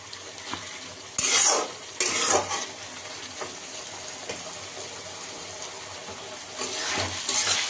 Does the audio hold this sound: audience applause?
no